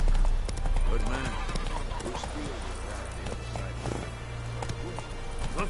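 Hoofbeats of a horse in The Witcher 3 game ride in a steady clip-clop rhythm under speech and game ambience, with a brief whinny mixed in.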